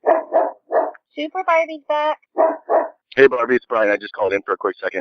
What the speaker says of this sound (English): excuse the dog barking